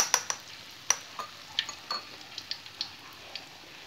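Chicken pieces for ayam kremes frying in hot oil, a soft continuous sizzle broken by scattered crackling pops and light stirring clicks.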